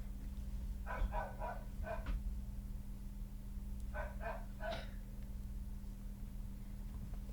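Several dogs bark hard in two tight bursts, three or four barks each, a few seconds apart, heard indoors at moderate distance over a steady low hum, with quiet between bursts.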